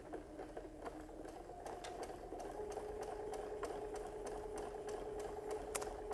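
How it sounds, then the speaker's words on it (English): A sewing machine hums steadily as it stitches quilt pieces, sounding fairly faint with a continuous whir and light rhythmic ticking. "let's go ahead, and we're going to sew"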